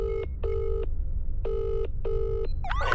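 Telephone tones sound while a call connects: four evenly spaced, steady beeps in a regular on-off rhythm, followed by a quick warbling chirp and a short burst of noise, with no voices.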